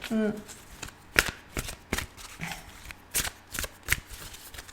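Tarot cards are shuffled by hand in a series of quick riffles and soft slaps, irregularly spaced and close up, with a voice speaking briefly at the start.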